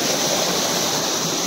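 A waterfall near a village on a school picnic gives a continuous, dense rush of falling water, loud and unbroken from start to finish with no voices.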